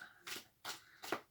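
Tarot cards are cut and shuffled close by, making three quick riffling bursts with short pauses between them. The sound is soft and crisp.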